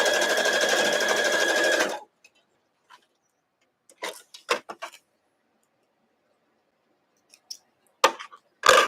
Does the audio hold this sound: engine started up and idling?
no